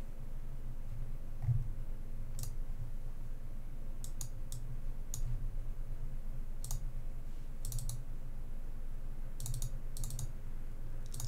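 A computer mouse clicks a few times, short crisp isolated clicks spaced irregularly over a low steady room hum.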